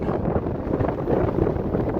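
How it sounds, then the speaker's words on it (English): Gusty wind buffets the microphone on a steep, exposed Colorado mountain summit, a rough continuous low rumble that swells and eases over a couple of seconds with no voices. "it's a little windy up here"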